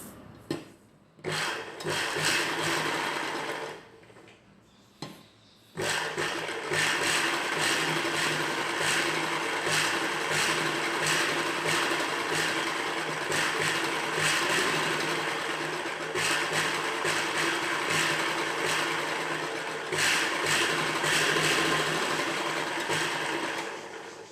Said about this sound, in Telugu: బకరం సైజులో చివరన కుట్టు వేసుకోవాలి.